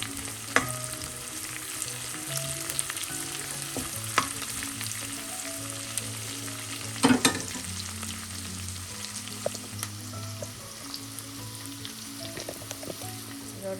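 Long beans stir-fry with green chili, garlic and curry leaves in a constant close sizzle. Scattered spatula scrapes and clinks sound over it, with one louder clatter midway.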